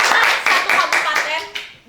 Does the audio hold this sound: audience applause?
yes